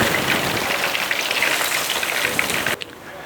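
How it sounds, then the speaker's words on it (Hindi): Chicken pieces deep frying in hot oil for a steam roast broast, a dense steady sizzling crackle close by that cuts off abruptly near the end. "तो चिकन के पीसेस फ्राई हो चुके हैं।"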